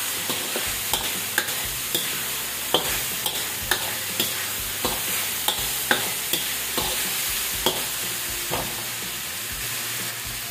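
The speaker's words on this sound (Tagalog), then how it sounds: "Lagay natin itong ating deep-fry na fish." Deboned fish deep-fries in hot oil with a steady crackling sizzle, broken by regular clinks and scrapes of a utensil against the pan, close and moderately quiet with no voices.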